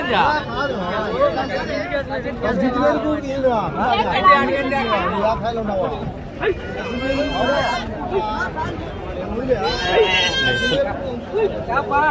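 Sheep bleat repeatedly at a crowded Bakrid sheep market in Angallu, loud overlapping calls close by, mixed with goat-like cries and a constant babble of people talking.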